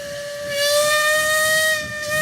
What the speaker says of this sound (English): Nice to see you guys finally running steam locomotives again after the 2 weeks of high fire risk